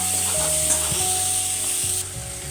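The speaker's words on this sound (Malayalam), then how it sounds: "ഉള്ളി പരുവമാകുമ്പോൾ കുറച്ച് വെളുത്തുള്ളിയും കൂടി ചേർത്ത് വഴറ്റി കൊടുക്കുക." Onion and garlic sauté in a pan with a close, bright sizzle, broken by scraping strokes of a spoon stirring through. The hiss drops slightly near the end, and there are no voices.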